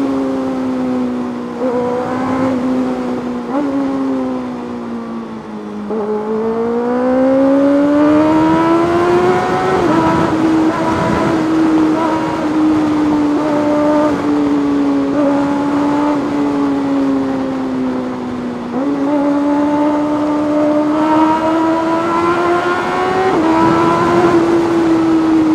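A 2024 Kawasaki ZX6R fitted with new headers and a remap revs loudly and close by for a long stretch, its engine note rising and falling in sustained pulls with short dips between them.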